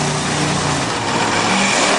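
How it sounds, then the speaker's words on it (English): An 1800 bhp monster truck engine roars loud and close at a drag-racing show, a sustained heavy rumble with revving texture that stays near and steady throughout. "when you have an 1800 brake horsepower monster truck coming towards you"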